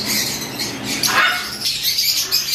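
Hobby birds in a breeding setup give a quick run of harsh, close squawks and chatter, loud and continuous across a couple of seconds.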